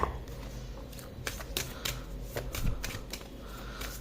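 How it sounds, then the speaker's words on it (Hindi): A tarot card is drawn from the deck during a reading, heard as a run of soft, close papery shuffles, flicks and light taps, quiet and intermittent, with no speech over it. "एक कार्ड हम यहाँ से निकाल लेते हैं।"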